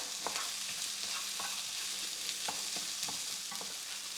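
A tomato sauce for nachos fries in a pan with a steady, loud sizzle that runs throughout, broken by light scraping stirs at irregular moments and no voices.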